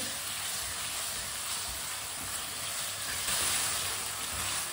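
Potatoes being sautéed in a pan for a baingan and mater dish give off a steady, close sizzle and hiss that holds evenly throughout, with no talking.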